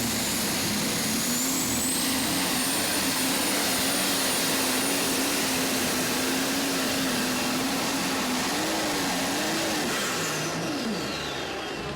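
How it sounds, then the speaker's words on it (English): A Lemke 540 diesel pulling tractor at an NTPA truck and tractor pull in Rockwell, Iowa, roars loud and close in one continuous run. A high whine wavers above the engine before it winds down near the end. "this is a Lemke 540 diesel"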